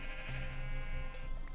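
A sheep in the video game Minecraft gives a single drawn-out, nasal bleat, close and clear, heard alone.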